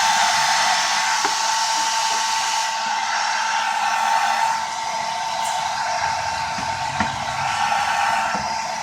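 A heat gun blows steadily at close range while heating a vinyl decal on a Camaro V6 engine, a loud constant airy roar with a slight shift in tone partway through and a few faint ticks underneath.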